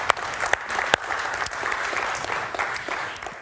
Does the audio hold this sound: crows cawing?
no